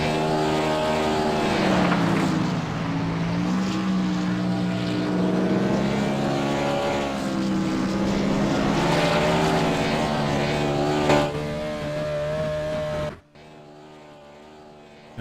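Race car engines roar around Las Vegas Motor Speedway in the iCAR racing game, with a loud sustained engine drone that rises and falls in pitch as the cars pass, then cuts off abruptly near the end.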